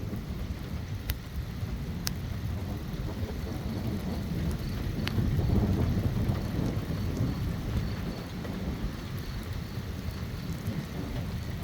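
Thunder rumbles low and long through a strong thunderstorm in rural Nebraska, swelling midway over steady rain, with a few sharp crackles breaking through.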